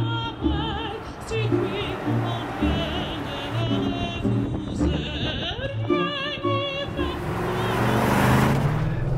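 BMW Z8 (E52) engine rumbling while driving, a deep steady drone with shifting tones and road noise, heard under men's conversation inside the car.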